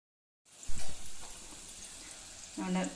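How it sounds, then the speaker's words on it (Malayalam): Bread balls deep frying in hot oil give a soft continuous sizzle that starts after a brief silence, with a stir or splash near the start and a voice speaking briefly toward the end. "അപ്പോൾ ചെറിയൊരു ബ്രൗൺ കളർ വരുന്നത് വരെ ഒന്ന് വറുത്തെടുക്കുക."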